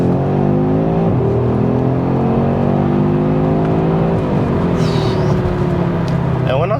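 An Audi RS3 hot hatch accelerates hard in RS mode with a loud, continuous engine drone. The pitch climbs through the revs and drops sharply at a gear change before rising again, heard from inside the car.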